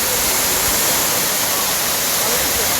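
Steady roar of Thusharagiri waterfall, a dense, even rush of falling water filling the whole moment without pause, loud and close, with no voices.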